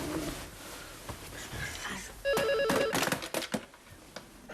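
A telephone rings in short electronic bursts in a home, the tones standing out over soft background noise and a few clicks, with no talk during the ring.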